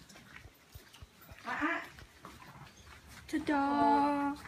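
A male Pomeranian gives two short high whimpers, one briefly and a longer whining cry near the end, close by, with a person speaking nearby.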